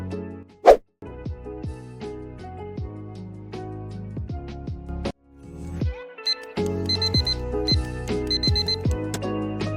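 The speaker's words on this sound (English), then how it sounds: "Set your alarm for the right time based on your schedule, so you wake up early." An electronic alarm clock chimes and beeps in a quick melodic pattern over a bright musical backing, with a sharp click near the start.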